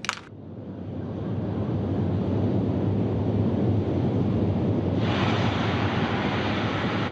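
Soyuz rocket with four boosters and a single core engine lifting off from Baikonur: a steady, broad roar that swells within the first second and holds, brightening with an added hiss partway through, with no voices.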